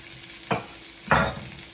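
Halved garlic placed face down in a hot pan while braising short ribs gives two short bursts of sizzling over a quiet background hiss.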